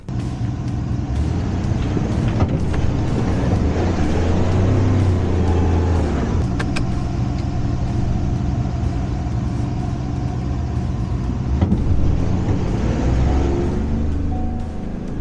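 Ford Lobo pickup running in 4x4 low range while pulling, a loud steady engine drone with a deep low rumble that holds throughout, close and unbroken.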